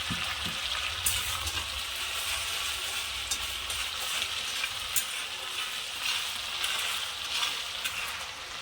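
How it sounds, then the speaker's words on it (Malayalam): Crushed ginger and garlic hitting hot oil in a wok, a bright steady crackling sizzle with occasional sharper pops and stirring scrapes, close and continuous. "എണ്ണ ചൂടായി വന്നിട്ടുണ്ട് അതിലോട്ട് നമുക്ക് നേരത്തെ ചതച്ച് വെച്ച ഇഞ്ചിയും വെളുത്തുള്ളിയും ചേർത്ത് കൊടുക്കാം"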